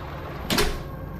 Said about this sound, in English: the front door opened and shut.